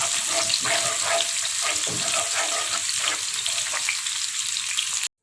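Shallots frying in hot oil for fried shallots, heard as a close, continuous crackling sizzle with brief stirring scrapes that runs for about five seconds and cuts off abruptly, with no voices over it.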